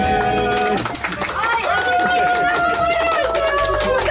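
Group clapping right after a Turkish birthday song at a surprise party, several people applauding loudly and steadily for a few seconds with lively voices and cheering mixed in.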